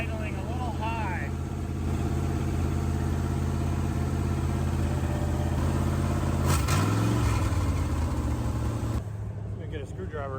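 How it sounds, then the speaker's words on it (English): A 1966 Chevy Nova engine idles a little high with a steady, even rumble throughout, close by, while a voice talks over it. "Idling a little high."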